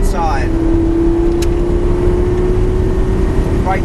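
A Lamborghini LP560-4 accelerates on a track, its engine holding a loud, steady drone with brief pitch sweeps at a gear change, under constant cabin noise.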